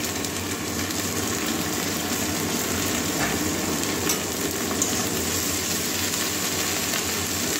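Beans, potato and eggplant sizzle in a pan of fried onion and garlic, an even, constant frying hiss with light crackle from start to finish and no talking.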